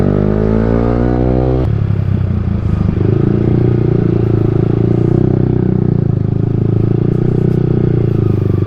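A Yamaha R15 V3 motorcycle fitted with a Tridente F22 aftermarket exhaust fires up and settles into a loud, close, burbling idle, rumbling steadily with slight throttle blips.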